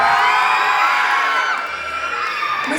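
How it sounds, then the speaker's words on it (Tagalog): A crowd at a pageant cheers and shouts loudly and continuously, many high voices and whoops overlapping in a sustained roar. "At wala po bang hiyawan dyan?"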